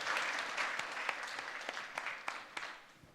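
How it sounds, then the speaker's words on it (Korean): Welcoming applause from the audience at a Busan maritime economy forum as a shipowners' association vice president is introduced, a soft, dense patter of clapping at moderate distance that gradually fades. "뜨거운 환영의 박수 부탁드립니다"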